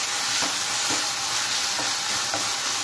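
Manchurian gravy with vinegar being stirred in a pan over heat, a loud constant hissing bubble close up with soft rhythmic scrapes of the spoon about every half second.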